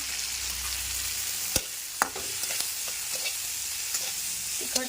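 Manchurian balls being stirred into a sizzling sauce with salt, green chili and red chili powder, a steady frying hiss broken by a few sharp spoon scrapes and knocks against the pan.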